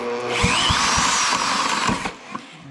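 A corded Milwaukee drill spins over the engine of a vintage 1955 Firestone push mower, whining steadily up close with a few sharp mechanical knocks. The drill runs for about two seconds and then cuts off, with no talking.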